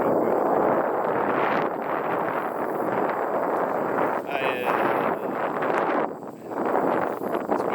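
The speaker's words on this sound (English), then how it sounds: "this wind" Steady wind rushes and buffets outdoors in northern Indiana, a dense, continuous roar that dips briefly and then returns, close and fairly loud.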